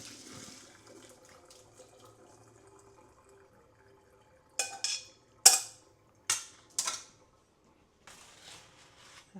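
Cooked short ribs drained at a kitchen sink: water splashes and pours in several short bursts after a quiet stretch, fairly close, with no talking.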